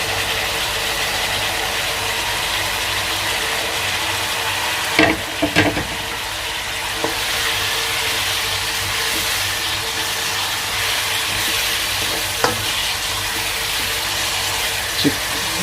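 Chicken frying and sizzling in a pan with tomatoes, a steady close hiss throughout with a few sharp clinks and scrapes from stirring, no voices.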